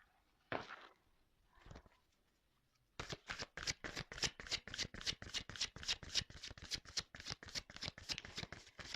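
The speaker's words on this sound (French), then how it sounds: "On va prendre d'autres cartes." A deck of tarot cards is shuffled close by: a couple of soft card handling sounds, then a rapid run of about two dozen crisp, evenly spaced riffle slaps.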